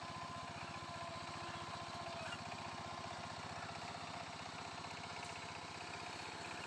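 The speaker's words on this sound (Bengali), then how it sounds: "মেশিন তো হাল করছে" A machine plowing a muddy paddy field for winter boro rice, its engine running as a steady, even drone with a fine chugging pulse, moderately distant and unchanging, no voices.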